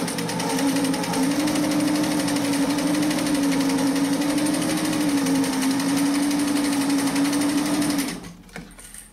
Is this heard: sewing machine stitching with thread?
yes